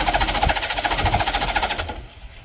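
A Honda Goldwing motorcycle engine idles roughly up close, with an uneven chugging pulse and a slight throttle lift, before the sound drops away near the end.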